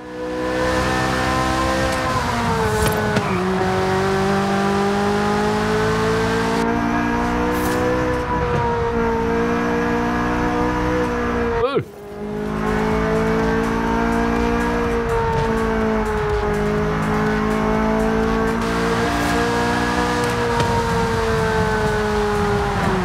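Chevrolet Corvette C8 Z06 in Forza Horizon 5, its high-revving engine wailing loud and continuous through gear shifts, pitch climbing and dipping, with a brief cut midway before the howl resumes.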